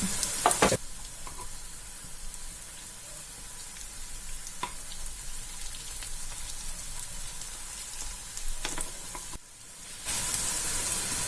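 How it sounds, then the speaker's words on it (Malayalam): Potato evening snack frying in hot oil in a pan over a fairly high flame, a steady dense sizzle with a few sharp pops and clinks of turning, no talking. "2 സൈഡും നന്നായിട്ട് ഫ്രൈ ആയിട്ടുണ്ട്"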